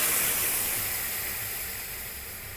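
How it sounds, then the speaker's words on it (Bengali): Cornflour mixed with water is poured into a hot pan of browned tomatoes for a raw banana chilli dish. It gives a loud, hissing sizzle that surges at once and then slowly fades. "এখানে যে কর্নফ্লাওয়ার মিশ্রণ ছিল সেই জলটা দিয়ে দিচ্ছি"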